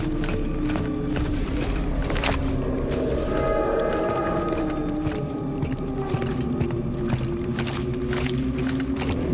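Water sloshes and splashes in the sci-fi horror video game The Callisto Protocol, with irregular clattering impacts and creaking mechanical tones over a dense low rumble, heard loud and close.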